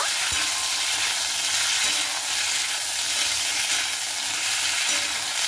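Flat beans fry in hot oil with black cumin, a steady, close, loud sizzle with a utensil clink at the start and no talking.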